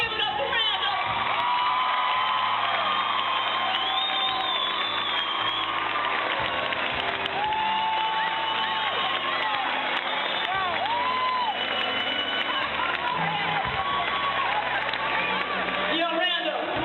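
Loud, sustained crowd applause and cheering with whoops and shouts fills the whole stretch for a tribute performer on stage, a dense roar that never drops away and has voices calling out within it.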